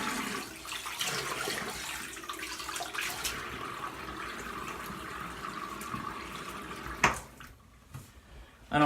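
Water runs steadily from a tap while a razor is rinsed, a close, continuous splashing hiss that cuts off near the end with a couple of brief knocks.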